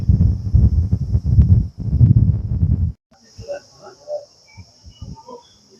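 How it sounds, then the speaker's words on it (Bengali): Crickets chirp in a forest near Bakkhali, a thin continuous high trill that runs the whole time. For the first half it sits under loud nearby talking, then carries on with quieter voices and scattered sounds. "এই জঙ্গলের মাঝে ঝিঝি পোকার ডাকটি কিন্তু খুবই স্পষ্টভাবে শোনা যাচ্ছে"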